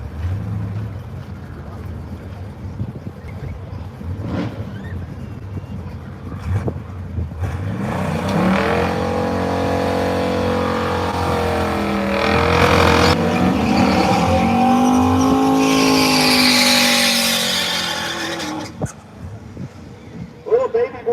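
Drag racing cars at Brainerd drag way build to a long, loud engine roar with revving and pitch sweeps before fading, while an announcer talks over the track noise.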